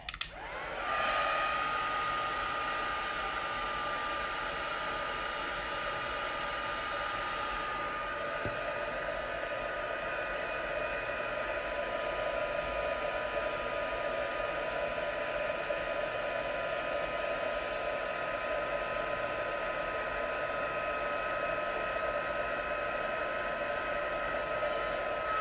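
An embossing heat gun blows with a steady, loud hissing whine after a click to start, running continuously and close up for the whole stretch.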